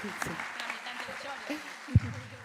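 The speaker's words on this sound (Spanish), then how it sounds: "un fuerte aplauso para Kita Gorbán, que nos acompaña." Audience applause for a speaker at a political forum in Buenos Aires, a moderate patter of clapping with voices talking over it and one sharp thump near the end.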